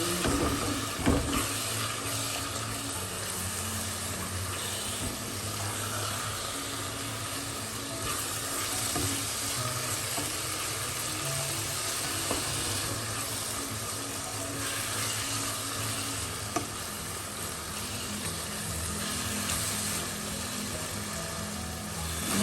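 Chopped onions and black pepper powder frying in oil for chicken biryani, a long steady sizzling hiss with occasional stirring clatter in a pan, even and moderately loud throughout.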